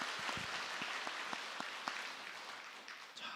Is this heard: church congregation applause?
yes